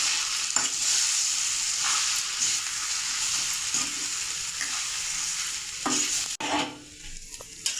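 Spiced potato filling is sautéed in a pan with a bright continuous sizzle broken by the scrape and knock of a spatula, ending in a few louder clanks as stirring stops.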